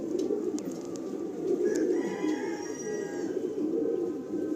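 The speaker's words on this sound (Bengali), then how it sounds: "দুটোই মাদি পায়রা" Two female pigeons coo softly in a low steady murmur, with a few light flutters and faint scuffs rising over it.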